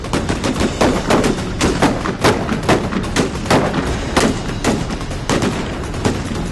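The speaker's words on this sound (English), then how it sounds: "shooter's ready with a single shot to the body" Pistol shots crack out at targets on an outdoor shooting range, a loud, close series of sharp reports fired in quick, uneven bursts without talk.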